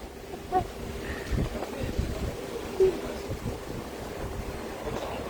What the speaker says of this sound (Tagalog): Aray ko, ang hangin.